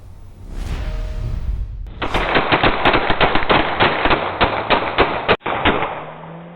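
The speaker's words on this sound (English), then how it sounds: "Those show the moments that shots were fired at a Triad pastor's home." Gunshots fired at a pastor's house, caught on a home recording: after a quiet start, a rapid string of around fifteen sharp cracking shots comes in quick irregular succession, loud and fairly close, ending abruptly.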